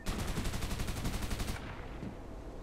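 Rapid automatic gunfire from the battle royale video game Farlight 84, a dense burst of loud shots for about a second and a half, then fading into a lower rumbling tail.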